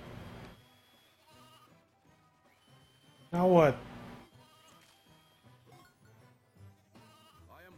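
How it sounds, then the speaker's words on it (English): A sharp, loud sheep bleat in the video game Toy Story 2: Buzz Lightyear to the Rescue cuts in midway, wavering in pitch, between bursts of excited talking. "I hear sheep."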